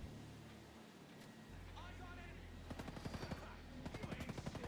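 Gunfire in the video game Ghost Recon Breakpoint, with rapid automatic bursts rattling over a low engine-like drone toward the end, and faint voices in the background.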